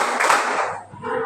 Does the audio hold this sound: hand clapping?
yes